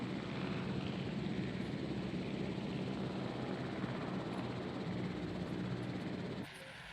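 A transport helicopter in the video game Jurassic World Evolution, a loud, steady rotor and engine drone that drops off abruptly near the end.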